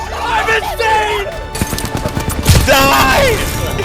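Gunfire in the Apex Legends video game, bursts of rapid automatic shots and sharp impacts heard up close and loud, mixed with excited shouting voices.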